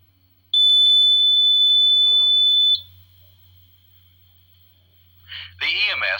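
A faceting machine's electronic monitoring system, triggered when the stone drops onto the cutting lap, sounds a loud, steady high-pitched alarm tone for about two seconds. It cuts off, and a person starts speaking at the end.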